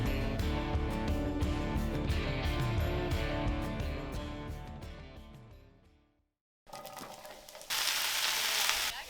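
Battered, previously frozen french fries frying in hot oil, a dense steady sizzle that fades out, breaks off briefly, then returns loud and bright with a fresh burst of crackling near the end.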